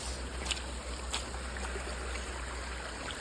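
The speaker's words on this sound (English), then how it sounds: "that's just like a little area of water" A small forest stream flows steadily, its soft, continuous trickle and wash close and unbroken for the whole stretch with no voices.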